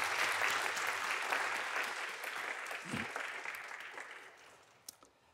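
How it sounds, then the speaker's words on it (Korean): A church congregation applauding its choir and orchestra after a hymn at a Sunday service, dense clapping that starts full and gradually thins out, with a few last claps near the end. "하나님께 영광을 돌리는 박수 한번 드리겠습니다"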